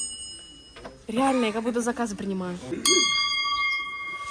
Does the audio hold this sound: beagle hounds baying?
no